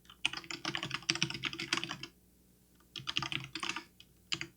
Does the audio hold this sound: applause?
no